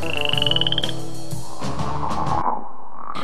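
A frog croaks in a children's tale about a magic paintbrush, with a few clear, loud croaks in a rhythmic burst over a musical background and no talking.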